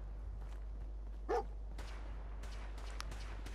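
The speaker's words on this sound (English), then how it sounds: "Stop barking, dog meat." Dogmeat, the dog companion in Fallout 4, gives a short bark that stands out once over a low, steady game background hum, with faint scattered footsteps and other game noises around it.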